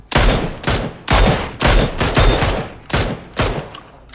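Bursts of close, loud automatic gunfire from a squad-based battle royale shooter, about eight rapid volleys in quick succession with short gaps between them, no talking.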